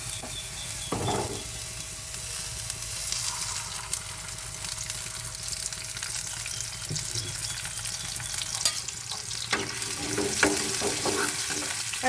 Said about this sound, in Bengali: এর জন্য আলাদা আর কি কড়াইয়ে রসুন আর পেঁয়াজ দিয়ে একটু